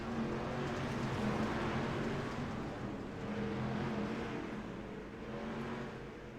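Harley-Davidson flat track motorcycles race side by side at Volusia, their engines a continuous droning roar that swells and eases slightly at moderate distance, with no voices.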